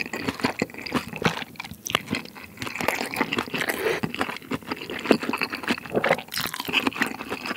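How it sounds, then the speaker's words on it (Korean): Close, loud crunching of crisp vegetables from mala xiang guo, chewed in rapid, uneven bites with no talking. "채소 뭐 이렇게 아삭아삭 씹히는 그 식감이."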